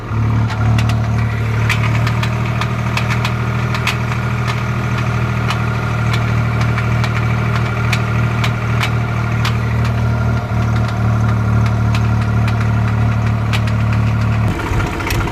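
A Swaraj 735 FE tractor runs in first gear with a steady, loud engine drone and a persistent transmission whine, fine rattling ticks running through it, close by and without talk until a brief drop near the end.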